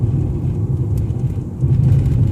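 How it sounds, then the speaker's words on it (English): A 2014 Nissan Sentra's engine drones on a test drive, a loud, steady low rumble from inside the car that swells slightly near the end. "the engine is kind of loud"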